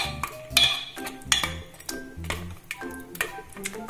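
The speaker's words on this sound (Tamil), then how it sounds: "ஸோ அதெல்லாம் வந்து நல்லா மசிச்சு விட்டுக்கோங்க." Cooked onions mashed inside a pressure cooker while making Chettinad mutton kulambu, giving irregular metallic scrapes and clinks of a utensil against the pot, fairly close and with no talk.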